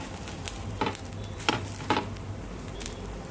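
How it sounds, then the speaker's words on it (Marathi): A paneer masala dosa is cut on a hot tawa, with a soft continuous sizzle broken by about four sharp, brief scrapes of the cutting edge against the metal. "मी तुम्हाला तव्यावरच कट करून दाखवते।"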